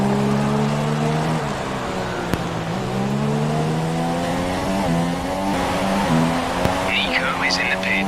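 Formula 1 cars in a racing video game at the Malaysian Grand Prix whine loudly through their gears, the engine pitch climbing and dropping with each shift, with a voice commentating over the sound.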